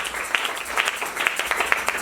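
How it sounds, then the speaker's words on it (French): A church congregation claps during a sermon, a lively near burst of many hands applauding with a loosely rhythmic beat, several sharper accented claps standing out over the steady patter, no talk over it. "Applaudissons pour le Seigneur."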